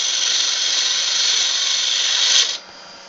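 A woodturning tool cuts into a spinning wooden goblet blank on a lathe, giving a loud, steady scraping whine that holds for about two and a half seconds and then breaks off, leaving a quieter motor hum.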